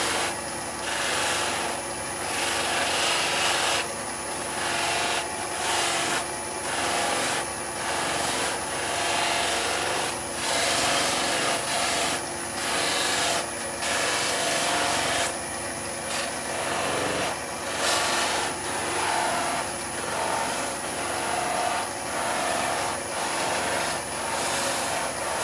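A pendant being buffed on a stitched loose leaf mop charged with carnauba wax gives a steady, close whirring drone with a continuous rubbing hiss, unbroken for the whole stretch.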